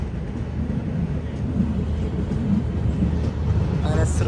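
Train pulling out of Srinagar railway station in snowy Kashmir, bound for Baramulla: a steady low rumble and rolling clatter of wheels and engine throughout, with faint higher squeals near the end.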